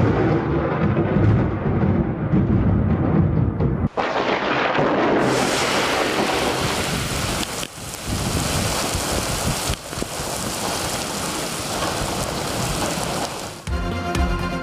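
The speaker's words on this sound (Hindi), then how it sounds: "इस्लामाबाद और रावलपिंडी में तूफानी बारिश" A heavy thunderstorm pours down on Islamabad and Rawalpindi, with a dense, loud roar of rain and rumbling thunder that shifts abruptly between several separate takes.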